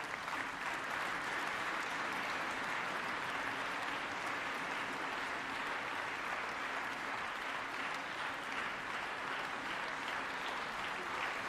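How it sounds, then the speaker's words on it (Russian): Sustained applause from a concert hall audience at a Siberian strings festival, dense and even clapping that continues steadily for over ten seconds with no voices over it. "Под аплодисменты зала, разумеется."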